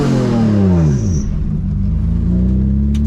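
A 600 HP V6 turbo Honda Civic accelerates hard from inside the cabin, a loud, close engine drone with descending then steadily rising pitch as it shifts and pulls through the gears, no talking.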